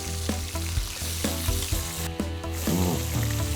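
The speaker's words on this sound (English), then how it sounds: "And then we're gonna get these on the grill." Seasoned shrimp and seafood sizzle and fry on a hot grill, a steady close crackle with a few louder bursts and stirring clatter.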